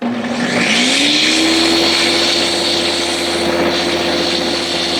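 A Ninja Detect blender motor runs loud and steady, peaking around 98 decibels, with a whirring high-pitched whine that rises slightly as it spins up and holds.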